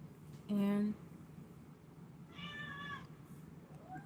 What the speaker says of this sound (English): can you guys hear the cats in the background at this point?